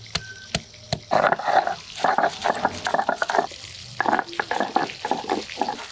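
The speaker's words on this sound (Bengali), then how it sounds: "মাছ ভাজা হয়ে গেছে" Katla fish pieces sizzle and crackle in hot oil in irregular bursts, with a few sharp clinks of a utensil near the start.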